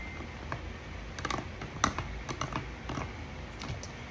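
Quiet clicking and pressing on a fidget board, irregular taps and snaps in quick clusters, close by with no talking.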